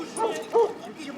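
A dog gives two short yipping barks, close and moderately loud, with speech-like voices in the background.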